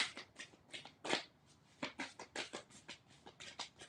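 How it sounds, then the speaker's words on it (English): Tarot cards shuffled during a reading, a steady rhythmic series of soft papery swishes and riffles, about four per second, close and clear without talking. "One more shuffle."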